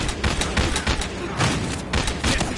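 Bursts of rapid video-game gunfire crackle in Battlefield Hardline, loud clustered volleys of shots repeating through a short, chaotic firefight with no clear speech.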